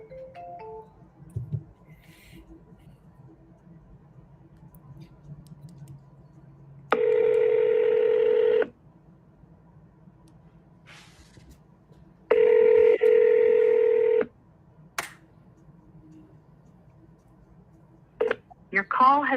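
Telephone call tones: a short burst of dialing beeps, then two long electronic ringback tones separated by quiet, with faint voices and brief clicks between rings.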